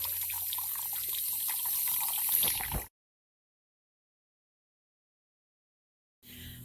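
Water from a water butt pours steadily into a porous stone basin in a garden, a close continuous splashing trickle that cuts off abruptly, then resumes briefly after a few seconds of silence.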